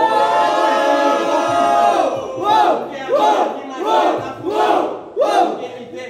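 Crowd at a Brazilian rap battle roaring and chanting, a dense wall of voices that swells into several rhythmic bursts of cheering close by.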